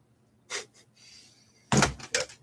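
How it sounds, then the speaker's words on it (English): An office chair knocks into a desk: two loud, close wooden thumps near the end, each followed by a short rattle, with fainter knocks and scraping before them and no talk. "Hit my desk there with the chair."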